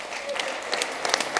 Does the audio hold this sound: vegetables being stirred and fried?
no